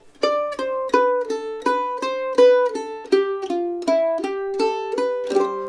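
Mandolin plays the opening phrase of a bluegrass tune at a slowed tempo, about a dozen clearly plucked notes in an even rhythm, close and clean, with no talking.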